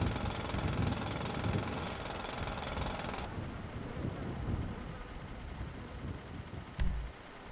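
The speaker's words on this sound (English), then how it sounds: "While I'm mining, I like to use / emote drill." A video-game drill emote rattles continuously while mining rock, giving a dense mechanical hammering that thins partway through and ends with a brief thump.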